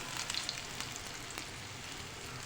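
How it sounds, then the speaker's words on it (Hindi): Fish kebabs fry in hot oil in a pan, giving a steady, dense sizzle with faint crackles and pops throughout, close and continuous with no voices. "अब हम इसको मज़ीद 2 से 3 मिनट और फ्राई करेंगे"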